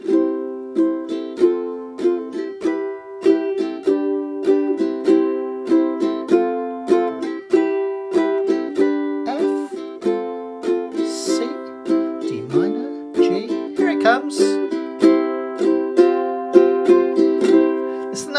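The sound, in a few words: ukulele strumming chorus with suspended chord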